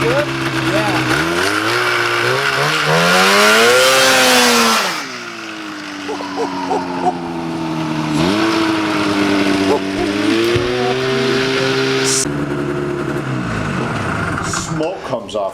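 A go-kart fitted with a snowmobile engine revs loudly and close by during burnouts, its buzzy two-stroke note surging up and down through several sharp bursts, with no speech over it.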